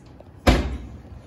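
An oven door opens with a single sharp clunk followed by a brief fading rattle, heard alone in a quiet home kitchen during scone baking.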